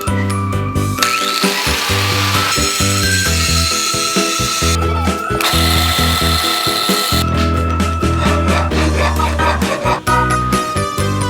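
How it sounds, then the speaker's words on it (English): Loud, continuous power saw cutting motorcycle axle plate shapes for a Honda Grom build, a steady harsh whine with brief pauses and shifts in pitch as the blade works through the metal, with no talking. "I'm gonna use my super saw to cut out the rest of this shape here."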